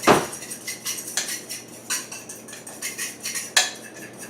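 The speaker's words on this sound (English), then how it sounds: "I'm just going to combine them with a fork, just to mix them together a little bit" A fork clinks and scrapes against a bowl, mixing ingredients for Swiss steak in a series of quick, close taps with brief pauses, with no voices.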